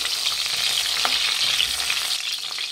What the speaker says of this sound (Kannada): ಈಗ ಎಣ್ಣೆಯಲ್ಲಿ ಫ್ರೈ ಮಾಡಬೇಕಾಗುತ್ತೆ ಟೊಮೆಟೊನ